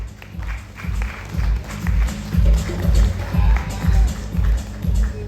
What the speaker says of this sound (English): Big round of applause for Joel Rana from Delhi